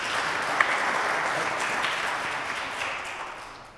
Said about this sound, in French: On peut applaudir aussi Iris